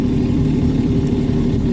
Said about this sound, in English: Idling at 1450 RPM.